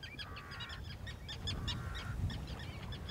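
Common terns calling at a nesting colony, with repeated harsh, grating cries and short chattering notes overlapping from several birds over a steady low rumble of wind or surf, fairly loud and close.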